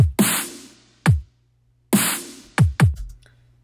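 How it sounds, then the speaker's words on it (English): A drum pattern of deep kick thumps and sharp, reverberant snare cracks, played alone in a slow groove with a quick double kick near the end. "So altogether, the kick and the snare is like this."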